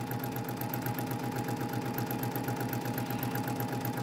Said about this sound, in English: I'll sew this one a little bit more slowly